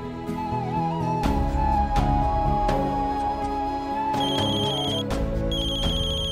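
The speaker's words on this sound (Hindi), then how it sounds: "एक बार फोन करके देखेगा शायद उठा ले" A phone ringtone rings in repeated tonal bursts during an outgoing call, steady and clear, with no speech over it.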